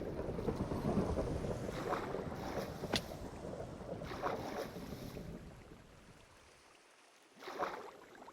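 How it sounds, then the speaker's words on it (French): Steady hiss of heavy rain with low rumbling in Minecraft, easing off toward the end before a brief swell of noise. "Il pleut."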